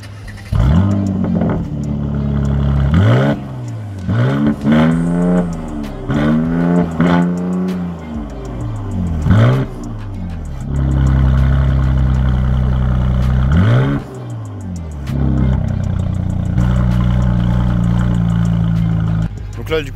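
Mercedes C43 AMG estate with a 420 hp V6 biturbo starts up and is revved hard several times, loud close blips rising and falling in repeated bursts, with someone talking between them.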